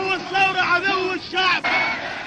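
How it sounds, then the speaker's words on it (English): A massive crowd fills the streets of Cairo, Egypt, with loud, surging cheers and chanting voices rising and falling in waves. "Massive crowds take to the streets of the Egyptian capital."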